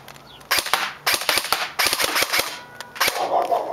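Airsoft AEG rifle fired on semi-auto, a string of sharp close snapping shots in quick uneven succession with mechanical whirring between them.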